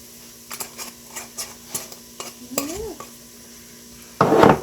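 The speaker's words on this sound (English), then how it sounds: "Let me just stir this up." A utensil stirs spices and onions in a cooking pan for an Indian curry, scraping in a string of light clicks and taps, then a louder burst of sizzling frying at the end.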